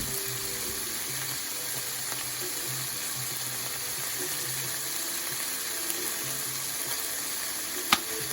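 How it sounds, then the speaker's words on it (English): Applewood smoked bacon sizzles steadily in a 12-inch Ninja Never Stick pan, giving a constant, even hiss with faint crackles and one sharp pop near the end, close up with no talking. "It's just sizzling in the Ninja Never Stick 12-inch pan."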